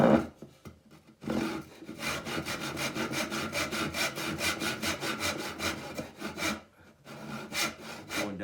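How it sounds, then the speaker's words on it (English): A crosscut hand saw cuts through wood in steady back-and-forth strokes, close and rhythmic, with a few short starting strokes first and a brief pause before the strokes resume. "this is going to be cross cut, so I'm using the cross cut saw"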